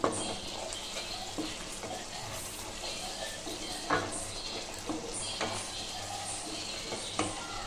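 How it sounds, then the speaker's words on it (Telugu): Gravy for a soya chunk (Meal Maker) curry sizzles and fries in a pan, a steady close hiss broken by occasional spoon stirs and clinks against the pan, with no speech. "గ్రేవీ బాగా ఫ్రై అవ్వనివ్వాలి."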